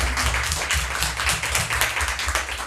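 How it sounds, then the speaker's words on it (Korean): A church congregation at a Sunday worship service gives a round of applause, a steady, fairly soft wash of clapping from many hands, with a few murmured voices beneath. "격려하는 마음으로 박수 한 번 더 붙이겠습니다"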